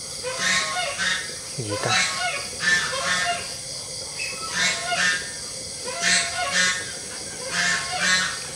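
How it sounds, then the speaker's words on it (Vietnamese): A goose honks repeatedly and loudly nearby, bursts of harsh honks coming in clusters every second or so, with a brief spoken question in between. "Bỗng nhiên con ngỗng nó kêu các bạn, nó kêu quá trời kêu các bạn."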